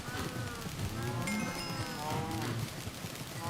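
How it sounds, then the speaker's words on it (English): Minecraft cows crammed together make an entity-cramming noise: overlapping moos and bleating calls in a steady, cluttered game soundscape, faint under a continuous hiss. "This entity cramming noise is absolutely horrific right now."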